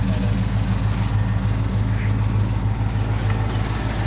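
A 1980 Pontiac Trans Am idles through its dual exhaust, a steady low rumble with an even pulsing throb, close and fairly loud, with no voices over it.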